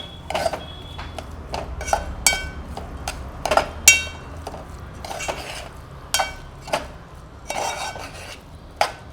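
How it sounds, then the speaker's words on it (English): A spoon scrapes and clanks against a pan while melting jaggery is stirred with scraped coconut, giving irregular, close metallic knocks and scrapes with brief pauses between strokes and no talking. "Keep on stirring till the jaggery melts and becomes one with the scraped coconut"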